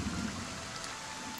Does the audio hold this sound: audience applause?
no